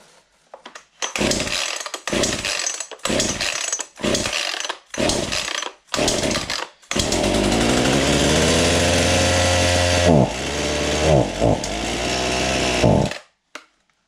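A chainsaw with a running fault is pull-started with the choke off: about seven short, loud recoil pulls in quick succession, then the engine catches and runs loudly, revving and dipping for several seconds before cutting out.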